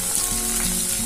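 Stuffed brinjals (gutti vankaya) sizzle steadily in an oily pan as they cook through for a masala curry, a constant close frying hiss with no voices.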